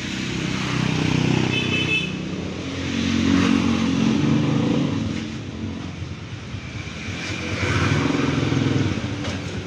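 A misfiring Honda TMX 155 motorcycle engine revs up and down in a workshop during a basic fault check, swelling in three loud surges with an uneven, sputtering note.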